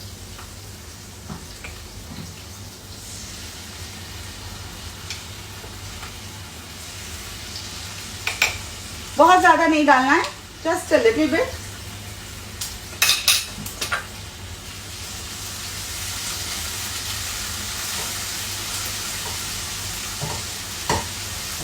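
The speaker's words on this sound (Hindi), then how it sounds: "इसमें अब मैं थोड़ा सा लहसुन और अदरक का पेस्ट डाल रही हूँ।" Garlic and ginger paste hitting hot oil in a home kitchen, giving a brief loud sizzle with stirring and utensil clinks, then a softer steady fry while someone talks quietly.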